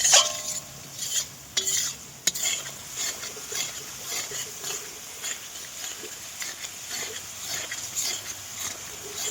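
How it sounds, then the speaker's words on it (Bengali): Onions with garlic paste stirred in a pan for a mutton curry cooked over a wood fire, giving steady scraping and soft sizzling at close range, with a few sharper utensil knocks near the start. "পেঁয়াজটা এরকম ঘুরতে হবে যাতে ঘুটে ঘুটে একদম গলে যায়"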